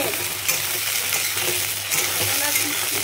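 Potatoes for aloo paneer matar fry in a pan with a steady broadband sizzle and occasional stirring scrapes, close and fairly loud, with no talk.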